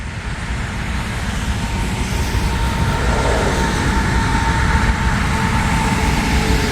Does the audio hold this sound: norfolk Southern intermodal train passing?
yes